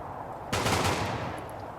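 A sudden burst of rapid automatic fire cuts through a quiet battle in Ultimate Epic Battle Simulator 2. A dense rattling volley is followed by a fading, rumbling tail and a couple of faint high pings, with no voices.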